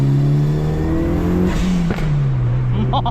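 Turbocharged engine of a 1996 Mitsubishi Lancer Evolution IV GSR pulling hard under acceleration, a loud sustained drone heard from inside the car with a gear shift partway through.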